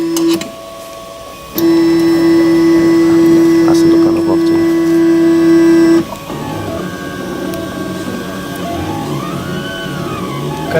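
A 3D printer runs with a bright, sustained tonal whine from its stepper motors that starts abruptly, holds for several seconds and then cuts out, leaving softer motor hum and shifting chirps against a room background.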